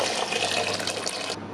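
Water pours steadily into a cooking pot for Ghanaian palm nut soup, a continuous close splashing rush that runs for over a second before cutting off abruptly.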